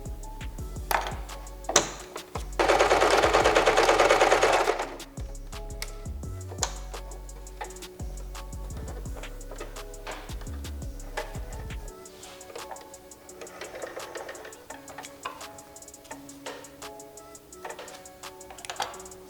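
A sewing machine stitches a shift boot for a Nissan 240SX, running in one dense, loud burst among scattered ticking clicks and mechanical taps close by.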